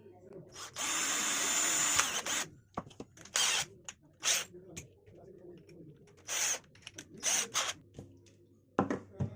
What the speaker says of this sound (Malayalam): ഇനി മാർക്ക് ചെയ്ത ഭാഗത്ത് നമുക്ക് ഒരു 3 mm ബിറ്റിട്ട് ഡ്രിൽ ചെയ്തെടുക്കാം.